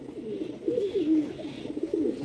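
Pigeons coo nearby in low, rolling, repeated calls over a soft background hum, no talking.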